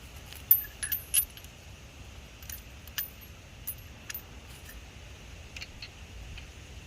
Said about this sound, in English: I just brought out my whole socket rail, so then I just got to figure out what socket fits this